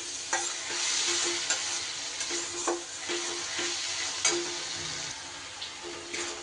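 Spice paste (masala) for a taro curry fries in a pan, giving a steady close sizzle broken by repeated scraping stirs of a spoon, with no talking.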